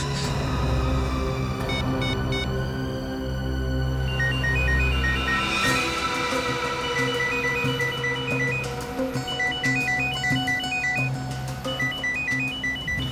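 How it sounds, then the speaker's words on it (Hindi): Electronic phone ringtone playing a repeating high melodic pattern, heard over a dense bed of music and background noise in a Hindi crime drama scene. "उनकी घंटी सुनाई दे रही है"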